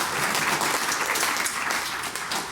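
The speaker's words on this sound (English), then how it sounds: "Yeah, you can clap for that." An audience at a live-coding tech workshop applauds, a dense steady wash of clapping that fades slightly toward the end, moderately close, with no speech over it.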